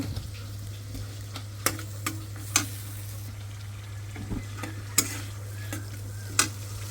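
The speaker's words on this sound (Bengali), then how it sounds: "তেলটা বেশি গরম হয়ে গেছে ওটার জন্য হলুদটা দিয়ে ভাইজে নিলাম" Turmeric and spices frying in overheated oil in a pan give a steady, close sizzle, broken by a few sharp clicks of stirring, with no talking.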